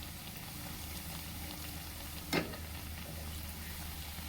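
Crispy corn vadas fry in hot oil with a steady, soft sizzle throughout. A single brief clink or splash cuts in midway. No one speaks.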